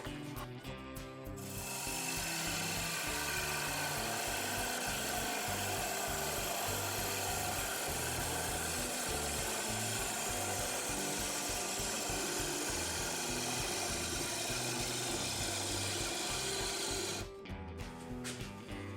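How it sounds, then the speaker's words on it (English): A thin 1/16-inch parting tool cuts into a spinning wooden disc on a wood lathe, giving a steady, dense scraping and rattling grind that runs loud and continuous for most of the clip, starting and stopping abruptly near each end. "I'm going to part this part of the disc off and then start turning the rest here. I'll be using my thin 1/16 of an inch parting tool."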